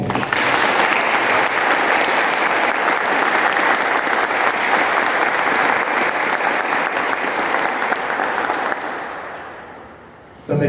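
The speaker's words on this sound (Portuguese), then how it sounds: "uma salva de palmas a ele" Dense, loud applause from a parish gathering at a liturgical formation session fills the room for about nine seconds, then fades quickly.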